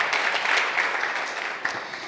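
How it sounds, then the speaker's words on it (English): Audience applause for a festival masterclass panel, a steady moderate wash of clapping throughout with a light voice briefly under it. "And just one more round of applause to our panel."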